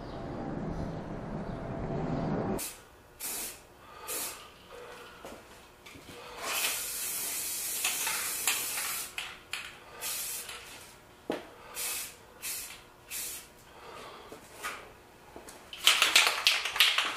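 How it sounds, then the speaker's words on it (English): Repeated short bursts of a hissing spray can or spray gun putting a fresh coat of paint on a Majestic No 5a, each burst a second or so long, fairly close, separated by quiet gaps with light handling noises. "every now and then I give it another coat of paint, and that's happening this time"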